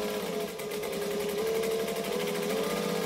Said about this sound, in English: we just need to sew around the edge